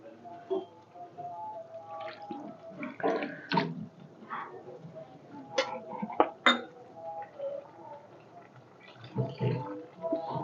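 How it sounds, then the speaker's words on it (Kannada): Water pours and splashes into a pot of cooking chicken gravy, with scattered clinks and scrapes of utensils against metal. "ಸ್ವಲ್ಪ ನೀರು ಹಾಕೋಣ ಚಿಕನ್ ಸ್ವಲ್ಪ ಇನ್ನೊಂಚೂರು ಬೇಯಬೇಕು"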